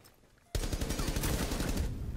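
After half a second of near quiet, a burst of rapid automatic gunfire erupts in a first-person shooter video game. It stays loud and dense to the end, with shots rattling off in quick succession.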